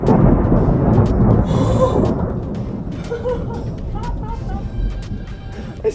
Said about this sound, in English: the storm is literally insane